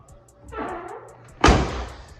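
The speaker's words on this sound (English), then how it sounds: "The door's shut really well." An old Oldsmobile Cutlass door swings with a brief creak and then shuts with one loud, solid slam close by, while a faint electronic chime repeats steadily throughout.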